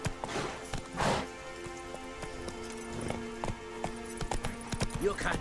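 Horse hooves clip-clop on the ground in The Witcher 3, a steady trotting rhythm of sharp knocks heard throughout, mixed with faint game ambience and occasional rain-like patter.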